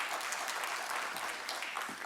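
Dense, steady applause from an audience at a Delhi Tamil Sangam gathering marking World Thirukkural Day, filling the whole stretch as an even wash of clapping with no voices.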